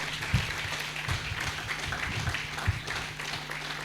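Congregation applause in a church service, a steady wash of hand clapping throughout with a few sharper nearby claps and a faint low hum underneath.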